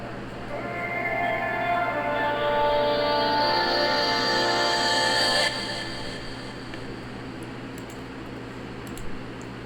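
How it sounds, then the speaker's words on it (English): A song played through simultaneous low-pass and high-pass filtering, a thin, band-limited tonal texture with a steady low hum that swells then drops abruptly partway through, continuing quieter to the end. "I'm low passing it and I'm high passing it at the same time"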